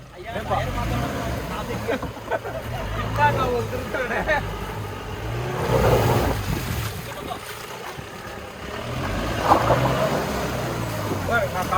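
A Mahindra Thar and Bolero plough off-road through water, producing surging splashes and rushing wash with engine rumble and wind buffeting, while people talk and shout over it.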